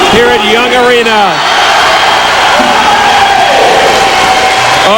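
Crowd at a USA vs Russia wrestling dual meet at Young Arena in Waterloo, Iowa, cheering and whooping loudly throughout, with someone shouting over the din.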